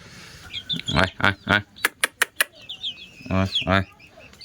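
Hill chickens being fed cluck in short repeated bursts close by, with a few sharp pecking clicks in a quick run.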